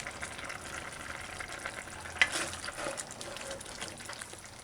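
Tripe stew with beans and ketchup being stirred gently in a pot, a soft continuous bubbling and scraping with one sharp clink of the spoon partway through.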